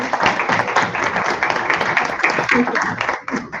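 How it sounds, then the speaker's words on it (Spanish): Applause and clapping for a documentary filmmaker at the close of an online talk, a dense steady patter from several people that holds for a few seconds before tapering off. "Acá te dan un aplauso, Cari."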